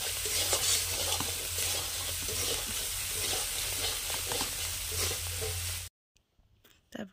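Masala paste is stir-fried in a pan, a dense close sizzle with repeated scraping stirs that runs steadily for about six seconds, then cuts off to near silence with a few faint knocks.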